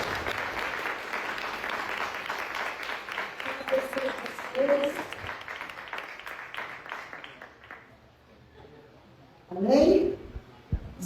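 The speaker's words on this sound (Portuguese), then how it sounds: "nós vamos aplaudir Jesus para ver os nossos convidados" Sunday church service congregation applauding: sustained clapping from a crowd for around seven seconds, fading out, followed by a voice and a short burst of loud sound near the end.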